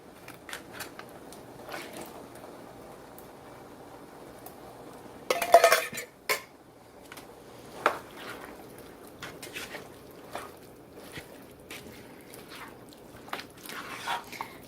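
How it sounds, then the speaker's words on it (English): Canned potatoes, two 15-ounce cans, tipped into a pot of Brunswick stew, making a brief cluster of close clanks and wet plops followed by scattered lighter knocks and scrapes. "And then I'm going to put the potatoes. That is 2 15-ounce cans."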